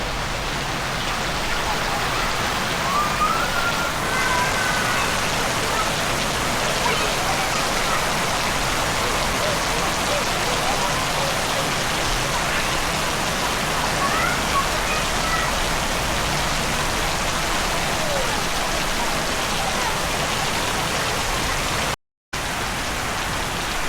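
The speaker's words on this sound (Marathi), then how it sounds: "आज पण पावसाचं आगमन झालेलं आहे" Steady rain falls outdoors in the Konkan countryside, a constant soft hiss that stays even and unbroken throughout, with no talking.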